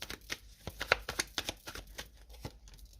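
Tarot cards handled and laid down on a table, a quick series of close, crisp flicks and soft slaps, uneven in rhythm and fairly quiet.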